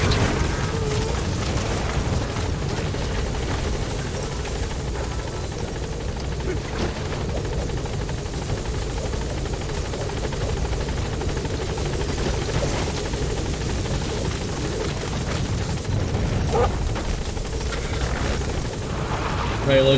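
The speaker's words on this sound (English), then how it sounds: "Support helicopter has arrived." A support helicopter in Metal Gear Solid V whirs steadily overhead for the full span, a loud continuous rotor drone with low rumbling and occasional talk over it.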